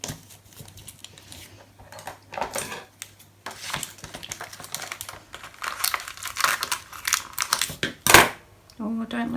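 Clear packing tape handled and crinkled by hand while being stretched around a printed camera image, a close run of crackly rustles and sticky snaps, with a sharp louder crackle near the end and a voice talking.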